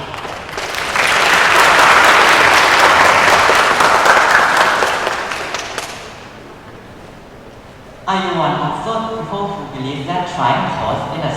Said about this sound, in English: Please give a round of applause to Luga.